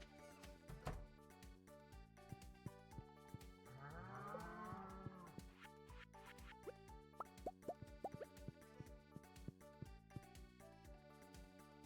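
Cow mooing in the farming game Stardew Valley, one drawn-out low moo in the middle, set among soft plopping game effects and light music, with no talk.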